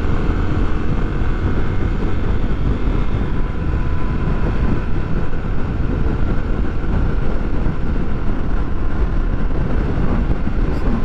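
A group of motorcycles, including a Honda XRE 300, rides slowly together on a road, producing a loud, steady engine drone mixed with heavy wind rush throughout, with no speech.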